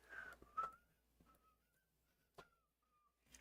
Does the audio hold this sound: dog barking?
no